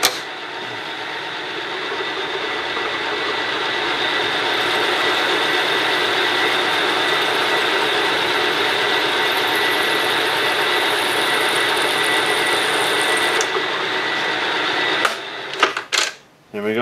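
A machine drills two new holes in a metal part, giving a loud steady mechanical whir that holds for about fifteen seconds before stopping, followed by a few sharp clanks and knocks.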